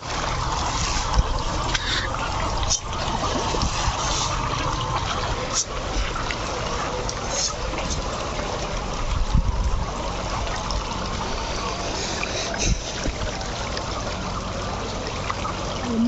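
Fish feed pours into pond water at a fish farm in Cumilla, a sustained splashing and trickling rush with a few sharper splashes, while people talk nearby.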